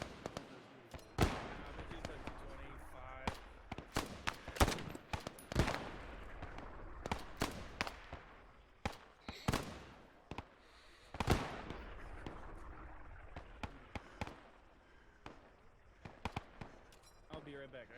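Rifle and small-arms gunfire in a Korean War combat game set at the Pusan Perimeter, a long string of sharp, loud cracks in irregular bursts, some single shots and some rapid volleys, with someone talking between them.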